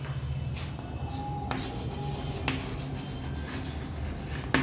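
A pen or marker writes out a maths ratio by hand, giving a steady scratchy rubbing with short strokes and a few sharper taps, close and continuous for several seconds with no talking.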